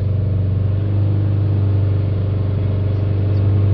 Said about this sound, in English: it's accelerating further than 3000 RPM now, so we'll try and hold that there